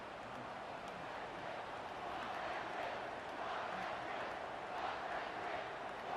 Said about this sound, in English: A crowd chanting for a blocked kick.